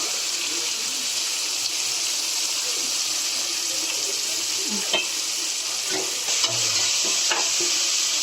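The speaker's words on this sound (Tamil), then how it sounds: "தக்காளி வதங்கட்டும்." Tomatoes and onions sautéing with coarse salt in a pan for chicken biryani, a steady bright sizzle with occasional spoon scrapes and stirring knocks, close and constant, with no talking.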